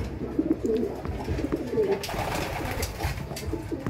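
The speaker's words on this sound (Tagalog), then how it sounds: "Ayan mga kalapati, pang South yan." Pigeons coo nearby in soft, repeated throaty phrases, several overlapping birds, with some light rustling and background noise.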